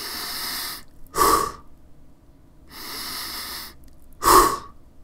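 A person imitates a happy cat's breathing: two cycles of a long, soft, airy inhale followed by a short, sharper accented exhale, close and clear with silence between.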